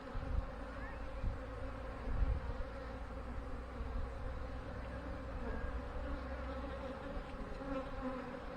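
A steady, dense hum of many honeybees in and around an open hive during an inspection, the buzz thick and continuous with some louder passes close by.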